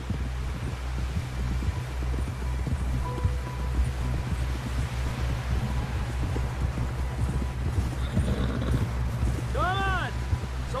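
Horse hooves clatter in a steady galloping rhythm in Red Dead Redemption 2, close and continuous under wind and rain-like noise, with voices and a brief whinny near the end.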